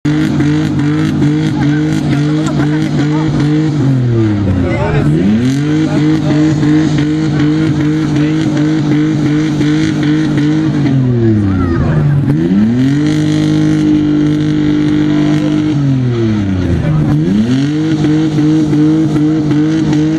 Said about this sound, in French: d'habitants en 4x4, dont certaines essaient carrément de faire sauter leur moteur